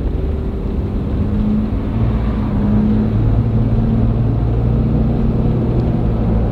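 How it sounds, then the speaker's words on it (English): Steady low engine drone heard inside the cabin of a Jeep Wrangler, loud and continuous rumble with no talking. "you can really only just hear the motor"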